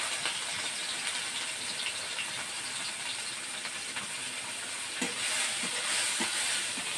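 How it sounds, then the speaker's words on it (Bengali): Shrimp frying in hot oil in a wok give a steady, close sizzle and hiss throughout, with a few brief clinks of stirring near the end. "প্রথমে চিংড়ি মাছটা ভেজে নেব।"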